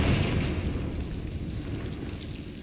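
In Hogwarts Legacy, the Confringo blasting spell goes off as a fiery explosion, a loud broadband burst that decays into a rumbling, crackling wash.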